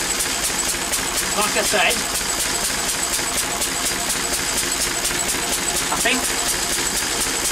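A Lister D diesel engine runs steadily on a dyno test while driving an alternator, its fast regular knocking pulse continuous and close, with someone talking over it.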